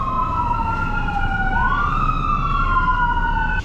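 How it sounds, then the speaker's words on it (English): An ambulance siren wails along East Hastings Street in Vancouver, loud and continuous, its pitch sliding down and then rising and shifting over steady traffic noise. "Ambulances"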